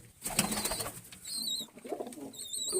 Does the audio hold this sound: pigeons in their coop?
yes